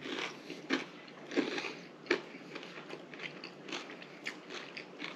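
Close, crisp crunching bites and chewing of toast topped with sardines, tomato, garlic and olive oil, with a few sharp crunches and softer rhythmic chewing between them, alone.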